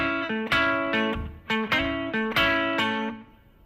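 Blues guitar riff with slides, slightly overdriven, a repeating rhythmic figure of plucked notes gliding into pitch, played close and alone with no talking.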